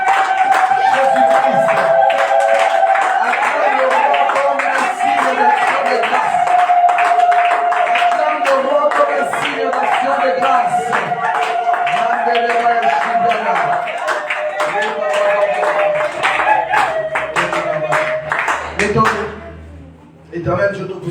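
A church congregation claps in a quick, steady rhythm while praising, the clapping running beneath a loud, continuous voice for most of the stretch before it drops away near the end.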